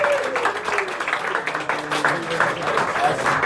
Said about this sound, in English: Round of applause, Sparks in the back.